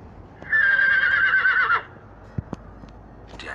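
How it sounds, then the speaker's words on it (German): One long, shrill horse whinny sounds up close for over a second, followed by a couple of sharp knocks. "Das Pferd."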